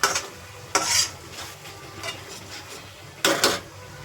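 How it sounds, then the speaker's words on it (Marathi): Tomatoes are sautéed in a pan for chole, a spoon scraping and stirring in a few sharp strokes over a faint, steady sizzle, close up with no talking. "टमाटरला पण चांगलं आपण परतून घेऊया"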